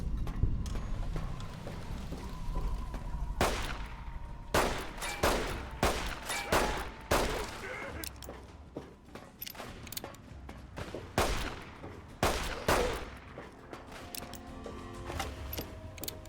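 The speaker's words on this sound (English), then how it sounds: "Who else is shooting me?" Gunfire from the video game Fallout: bursts of sharp shots and rapid volleys come in clusters over a low hum, with mechanical clicks of reloading between them.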